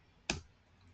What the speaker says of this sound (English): I'm right clicking on this Python file.